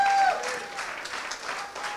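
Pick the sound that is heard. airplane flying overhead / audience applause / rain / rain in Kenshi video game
audience applause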